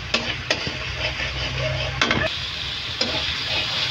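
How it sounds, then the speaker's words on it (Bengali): Chili powder and spices sizzle as they are sautéed in a pan for a potato and chana dal dish, a steady close crackle broken by a few sharp knocks of stirring. "অল্প পরিমাণে মরিচের গুঁড়ো, মশলাটা ভালো মতো কষিয়ে নেব।"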